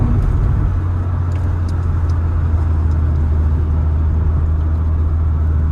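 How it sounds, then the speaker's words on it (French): An Audi S1 turbocharged engine hums steadily with a deep, continuous rumble and a faint high turbo whistle above it, heard from close by. "Ah ouais, non, le bruit du turbo."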